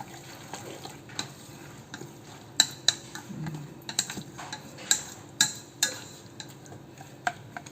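Kimchi pancake batter being mixed in a bowl, a series of soft scrapes and sharp clicks of a utensil tapping the container at an irregular pace, close and quiet.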